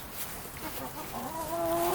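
Backyard chickens cluck and chirp close by, with soft scattered clucks that rise into clearer, higher tonal calls toward the end, fairly loud and steady with no talking.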